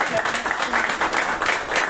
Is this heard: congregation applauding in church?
yes